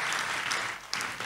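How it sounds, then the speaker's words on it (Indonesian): Church congregation applauding, a dense steady wash of clapping filling the space, with a brief flare near the end, close and loud with no voices. "Tepuk tangan buat Tuhan Yesus."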